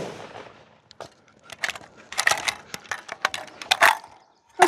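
A Ruger Mini-14 rifle fires rapid shots into dirt outdoors, a quick irregular string of sharp cracks, some louder and closer together, with short gaps between volleys.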